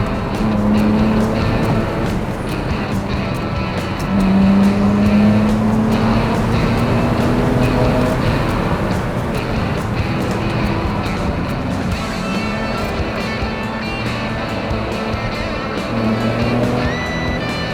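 The 3-liter six-cylinder engine of a BMW Z4 E89 drones steadily from the cabin, its pitch rising and falling through gear changes over a constant road roar.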